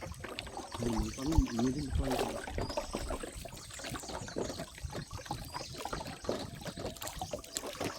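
A wooden boat glides through water among mangrove trees, with soft sloshing and dripping close by and a brief tonal hum early on, all fairly quiet.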